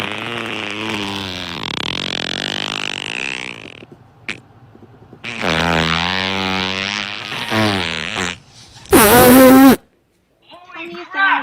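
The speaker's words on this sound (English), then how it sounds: "She must have been fucking blowing farts in her armpit or some shit" Fart noise blown from an armpit, long loud buzzy blasts that stretch out for a couple of seconds, pause, then come again, close and harsh, with a short burst of talk or laughter near the end.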